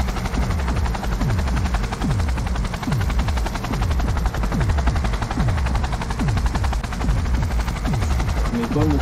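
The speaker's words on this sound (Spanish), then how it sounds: "Espera que me encienda el helicóptero" A helicopter starts up in the video game Cyberpunk 2077, loud rhythmic rotor thumps repeating steadily over a dense engine roar and whine that fills the whole stretch.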